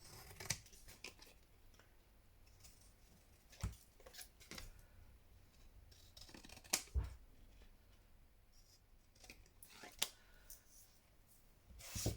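Scissors snip through paper ephemera for a Parisienne-themed junk journal, producing sharp, scattered cuts at irregular intervals over a quiet background, with occasional soft talk between them.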